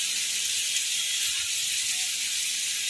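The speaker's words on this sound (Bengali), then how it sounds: "এখন এর মধ্যে ভেজে রাখা আলু বেগুনটা দিয়ে দিলাম" Potatoes, bitter gourd and eggplant hitting hot spiced oil in a pan, giving a steady, close, even hiss of frying that holds without a break.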